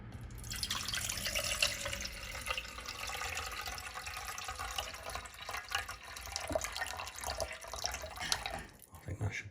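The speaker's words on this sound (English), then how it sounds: "I shall add some cold water first." Cold water runs from a kitchen tap while a wholemeal loaf is being made, a steady close rushing stream that keeps going for about ten seconds before it stops abruptly at the end.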